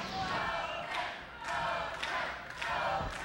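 A spectator shouts encouragement from the crowd during a racquetball match, the US Open semifinals, with several short raised calls over a hall murmur and occasional ball thuds.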